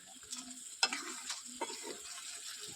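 Fish frying in oil gives a steady soft sizzle with a few sharp clicks and scrapes, moderately close and alone.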